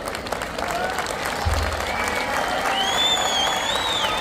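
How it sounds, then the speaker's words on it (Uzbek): A large outdoor audience at an Independence Day celebration in Sariosiyo claps steadily and loudly, a dense continuous wash of applause with faint cheering and a voice over a loudspeaker. "Odatdagi qarsak bundan ham baland bo'lish kerak"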